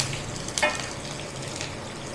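Spices for dhokla frying in a pan give a soft, steady sizzle with a brief clink of stirring, fairly quiet and close.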